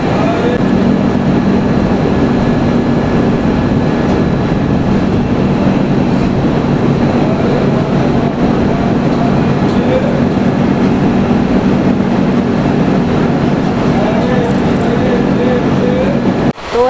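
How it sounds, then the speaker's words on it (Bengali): A train's steady, loud rumble and rattle fills the scene, with a constant low drone and some background voices faintly underneath. "ট্রেন ছেড়ে দেবে ট্রেনের লোক ঘুরে পড়েছে এত আওয়াজ হচ্ছে"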